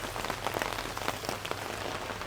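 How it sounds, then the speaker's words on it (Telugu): Rain falls steadily outdoors near a parked scooter in North Goa, a dense, even patter of drops throughout with no voices. "స్కూటీ దగ్గర నిల్చోగానే వర్షం స్టార్ట్ అయిపోయింది మళ్ళీ"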